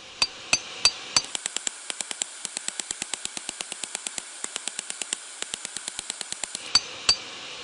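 Metal struck with a hammer on an improvised anvil while making a forge: sharp ringing blows, a few heavy strikes, then a fast even run of lighter taps, ending with two more heavy hits.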